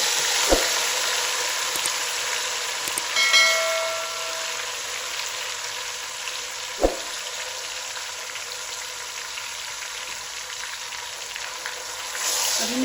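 Steady sizzling and crackling of chicken frying in hot oil in a pot for biryani, continuous and close, with a couple of sharp clinks from a utensil against the pot.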